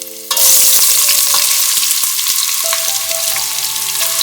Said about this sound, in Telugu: ఇది గోల్డెన్ బ్రౌన్ వచ్చే వరకు మనం వేయించుకోవాలి.